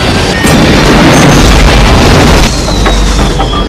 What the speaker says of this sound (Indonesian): Pesawat terbelah menjadi dua dan menabrak tangki bahan bakar.